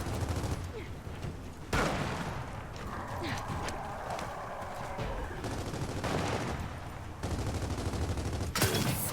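Sniper gunfire in the video game Gears of War 4, a few sharp shots and bursts over constant battle noise, with someone talking throughout.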